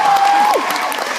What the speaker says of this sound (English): Give yourselves a round of applause for growing yourselves some tits.